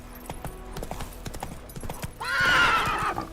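Roach, a horse in the video game The Witcher 3, clip-clops steadily along a road, then lets out a loud, drawn-out neigh near the end, close and clear over faint game ambience.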